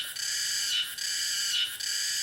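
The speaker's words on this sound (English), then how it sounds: "Oh, are those supposed to be cicadas?" Cicadas in the video game Looking For A UFO: a loud, steady high-pitched buzzing drone that pulses, with two brief dips and swells, alone and without voices.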